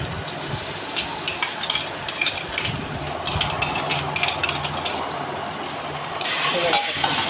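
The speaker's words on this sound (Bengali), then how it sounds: "দিয়ে ভালো করে পেঁয়াজের সঙ্গে মিশিয়ে মিশিয়ে নাড়তে হবে" Spices being stirred with onions in a pressure cooker: continuous frying sizzle with repeated scraping and clinking of a spoon against the metal pot, close by, ending in a louder burst of hiss.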